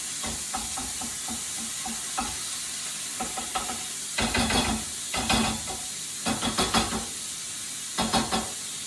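A vegetable and egg mix sizzles steadily in a hot pan over a lowered flame while a utensil chops and scrapes at it in repeated clattering strokes, close and loud, with no talking.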